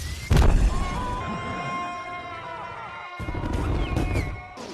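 Animated panda Po from Kung Fu Panda slamming down after a firework-powered flight: a sudden loud crash and thud, followed by scattered debris and shimmering musical tones that fade, with a brief dropout before the film score resumes.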